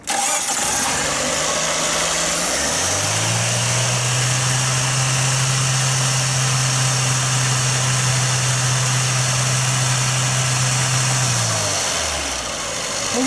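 A VAZ-2109 car engine with an old-style ignition switch unit and a rare fault cranks, catches and settles into a steady, loud idle, then cuts off near the end, with no talk.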